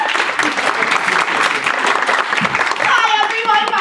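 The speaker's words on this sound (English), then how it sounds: "Claps." Audience at an improv comedy theatre applauding, dense steady clapping with some cheers, a voice emerging over it near the end.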